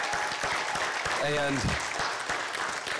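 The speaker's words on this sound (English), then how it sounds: "they need a big round of applause for that" Applause from a church congregation, a steady wash of clapping throughout, with a voice speaking and briefly calling out over it.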